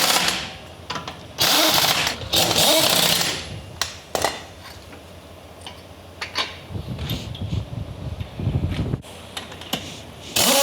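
An air compressor used while fitting a replacement tyre runs in loud bursts, harsh mechanical noise starting and stopping between quieter stretches, with clanks and handling sounds in between and no talk.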